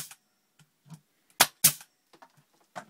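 A Tacwise DGN50V 18 gauge air nailer fires pins into fine beading: two sharp, loud pneumatic snaps in quick succession, near and dry, surrounded by a few faint handling taps.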